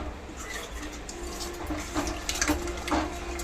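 Tamarind water poured into a pot while making vathakulambu, a steady soft liquid splash and trickle at close range with a few small clinks of utensils.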